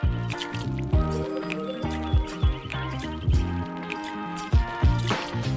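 Water and salt poured into a pot to make a brine for marinating a whole chicken, heard as close, wet splashing and dripping in uneven bursts with no talk over it.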